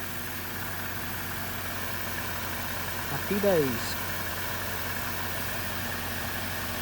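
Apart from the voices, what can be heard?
car engine idling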